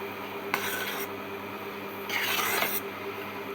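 Génoise batter folded with a spatula or skimmer, two soft scraping, rubbing strokes against the bowl, close and fairly quiet, with no talking.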